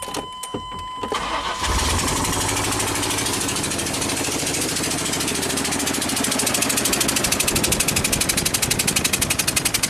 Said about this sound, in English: let's just run it without the plug in there, see if it actually sparks